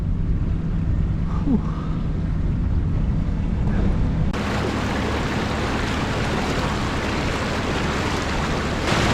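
A Ford Explorer pushes along a sea-flooded road leading from an uninhabited island near Saaremaa, giving a continuous rushing wash of water and wind noise that grows noticeably louder and fuller about halfway through.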